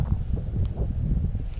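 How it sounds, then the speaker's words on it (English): Strong outdoor wind buffeting a microphone on a windy day, a continuous low, rumbling roar with uneven gusty pulses and no other clear sounds. "I apologize for the wind. It's pretty windy out today."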